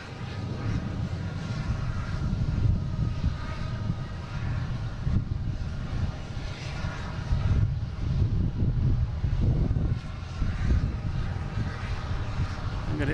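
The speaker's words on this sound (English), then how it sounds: "Now we have United taking off to Newark. 737, MAX 9." A United Boeing 737 MAX 9 takes off from Boston Logan toward Newark in strong wind, a steady low jet rumble heard from a distance with gusty noise mixed in.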